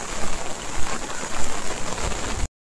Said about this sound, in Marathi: खूप पाऊस पडतोय यार